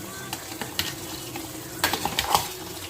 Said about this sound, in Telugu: గోంగూర ఒకసారి వేసేసుకున్న తర్వాత ఇట్లా ఒకసారి కలిపేసుకోవాలి